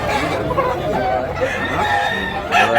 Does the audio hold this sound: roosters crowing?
yes